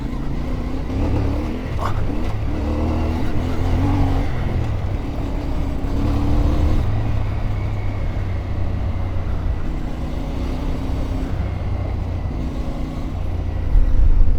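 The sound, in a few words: CFMoto 450 MT motorcycle riding on road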